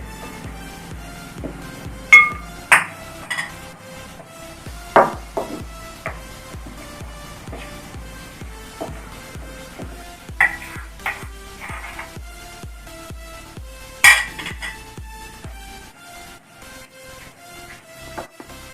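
A spoon steadily stirs flour into an egg-based mango cake batter in a bowl, making rhythmic soft scraping strokes with a few sharper clinks against the bowl, alone without talk.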